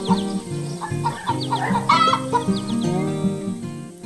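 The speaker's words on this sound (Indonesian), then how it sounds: "Ayam-ayam coklat dan hitam berdiri di rak jerami yang hangat." Animated brown and black chickens in a barn cluck in short, repeated bursts over a busy, steady cartoon background mix, with no talk.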